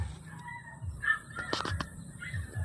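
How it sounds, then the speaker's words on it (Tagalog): Chickens at an outdoor air-rifle testing spot, with a few short calls and one brief louder squawk over a low rumbling background, moderately distant. "dami manok."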